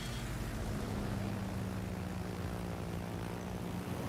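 Propeller planes fly in the naval video game World of Warships, a steady loud droning engine hum with a constant low buzz, continuous and unbroken.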